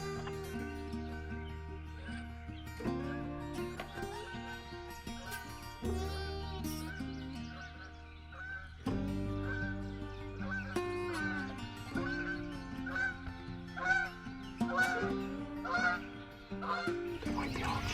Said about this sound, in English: We've got probably 4 or 5 different birds gobbling, all in a semicircle here